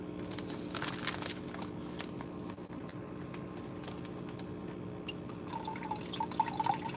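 Fish and water gently poured from a bag into an aquarium, a soft steady trickle and faint dripping over a constant low hum, heard alone.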